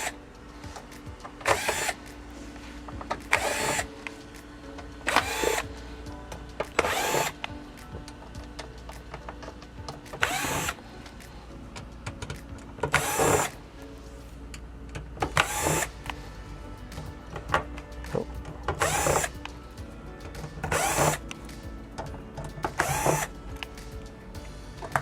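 A powered screwdriver whirs in short bursts while removing the small screws from the back cover of an LG 47LW5600 television, about a dozen evenly spaced buzzes close up, with quiet gaps between them.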